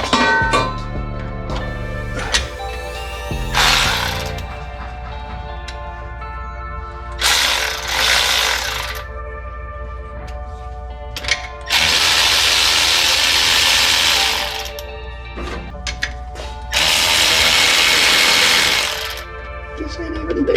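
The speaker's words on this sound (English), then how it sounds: "I'm about to tighten that one all the way up." A hand ratchet clicks in several bursts while tightening a transmission mount bolt on an IFS truck, the loud rapid ratcheting coming in spurts of a few seconds, separated by quieter pauses with faint mechanical clatter.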